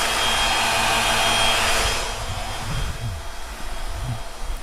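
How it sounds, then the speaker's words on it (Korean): A Tesla Model S battery cooling fan runs at a Supercharger, making a loud, broad whooshing roar that is strongest at first and then eases to a steady, slightly lower rush. "아마도 충전하면서 배터리를 식히기 위해서 팬이 돌아가는 것 같습니다"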